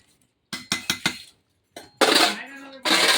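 A metal lid clatters onto a pot of meat cooked over a wood fire, giving several quick clinks followed by louder scraping metal clanks, close and sharp, with no voices.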